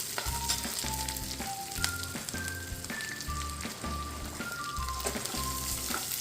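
Peanuts frying in a pan for a peanut chutney, with a pinch of turmeric added, give a steady close sizzle and crackle throughout. Low rhythmic knocking and a few faint tonal beeps sit underneath, and no one talks.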